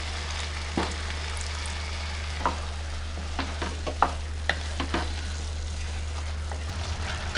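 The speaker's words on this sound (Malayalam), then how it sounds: "ഇപ്പം നന്നായിട്ട് തിളച്ച് വരുന്നുണ്ട്." A restaurant-style vegetable curry gravy with added water bubbles in a pan, giving a soft, steady simmering hiss broken by scattered small pops and crackles, close and fairly quiet, with no talk.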